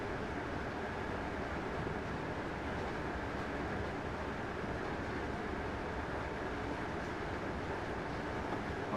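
An AP36 train in Train Simulator 2017 running near 100 mph, a steady, dense rumble of wheels and rails from inside the cab, constant and unbroken throughout with no talk.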